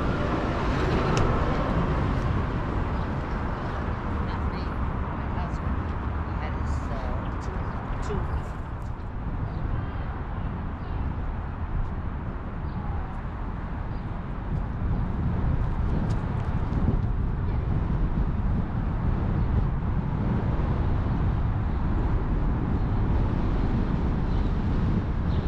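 Car driving around the outside of Paramus Park Mall in Paramus, New Jersey: a steady road roar and tire hum with wind buffeting, continuous throughout, with a voice faintly present at times.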